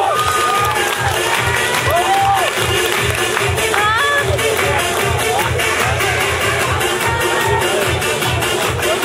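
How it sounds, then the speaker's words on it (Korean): A group of young children at a preschool claps in a steady rhythm, with a pulsing beat under cheerful shouting and crowd noise from the class throughout. "박수! 박수! 이름에 맞춰 박수!"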